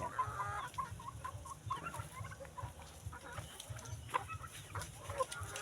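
Black Australorp chickens cluck and murmur nearby in a roomy coop in a steady, overlapping chorus, with a low hum running underneath.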